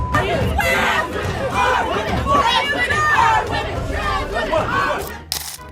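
Activists shout at a street protest, a loud, close jumble of overlapping voices and yelling that runs continuously.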